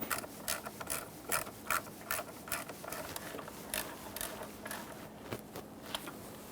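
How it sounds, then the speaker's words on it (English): Rapid ratchet clicking in quick bursts as two mounting bolts are snugged down on a mass airflow sensor in a 2011-2020 Toyota Sienna 3.5L V6, close and fairly quiet with short pauses between runs. "Align each one of your 2 mounting bolt holes, start them in, and snug them up."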